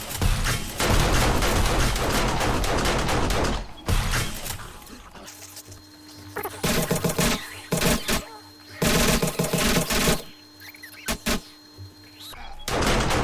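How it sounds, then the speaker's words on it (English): An automatic turret fires during a Blood Moon in 7 Days to Die, opening with a loud continuous burst of several seconds, followed by quieter mechanical clunks and scattered short bursts, with someone talking at times. "I might turn this turret on for a while"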